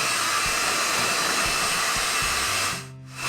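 A hair dryer or heat gun blows a steady, loud whooshing roar while warming a can of rust proofing during restoration of a 1970s Bedford cab, then cuts off sharply near the end.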